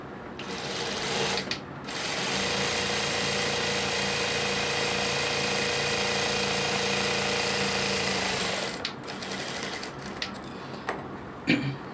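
A sewing machine runs close and loud, stitching a strip of piping onto a kurti neckline in one long continuous burst of rapid mechanical chatter, with short starts and stops before and after.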